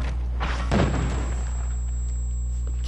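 A bombing explosion in the video game We Happy Few, a heavy low boom with a thudding impact over a constant deep rumble, loud and close, fading into a lingering roar.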